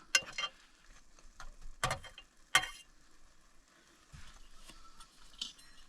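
Food is stirred in a pot during camp cooking, with a spoon scraping and clinking against the metal in a few sharp, irregular strokes separated by quieter pauses.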